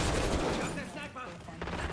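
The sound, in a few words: gunfire from the video game Black Ops 6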